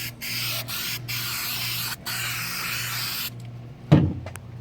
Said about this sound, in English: Just gonna spray this.